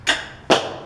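Allen wrenches and tools dropped onto a floor while a 2018 Fit BF22 bike is built, two sharp, nearby clattering thuds about half a second apart.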